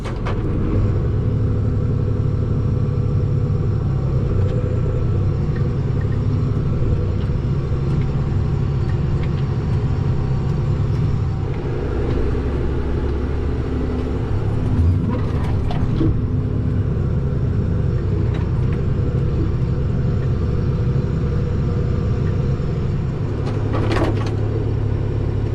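A John Deere TG210 tractor engine runs at a steady low idle, a continuous deep rumble that holds through the whole stretch with a few faint clanks and knocks over it.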